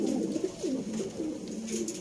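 Sialkoti shekhan pigeons coo in a run of soft, rolling, repeated calls, close by and steady, over faint background noise.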